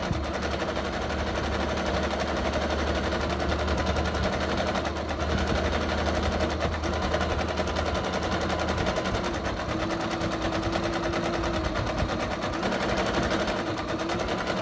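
A sewing machine stitches fabric for a small Christmas stocking-stuffer project in a steady, continuous mechanical whir and rattle, close and even for the whole stretch, with no talking over it.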